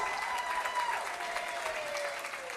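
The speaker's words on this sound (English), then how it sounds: "Give her a round of applause." An audience in an opera house fundraiser applauds a winner, a steady wash of clapping throughout at moderate distance, with a faint voice talking underneath.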